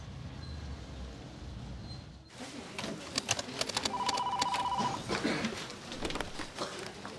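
Telephone ringing for an anonymous call, a warbling electronic ring tone starting a few seconds in with background clatter, moderately loud.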